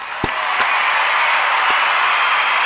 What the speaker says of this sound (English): I gotta hit the cheer button